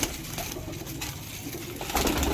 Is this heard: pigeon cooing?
yes